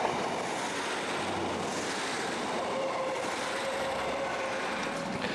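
Train passing near Headbolt Lane Station, a steady rushing rumble of rolling wagons heard from some distance, with a faint tonal whine rising partway through and no talk.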